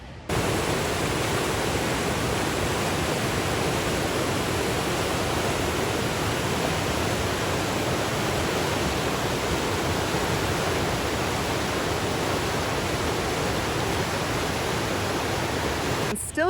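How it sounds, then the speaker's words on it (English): A raging river torrent rushes steadily at a slight distance, a loud, unbroken broadband roar of churning water filling the whole stretch without pause. "we're not right next to the river, which is great because it is a raging torrent"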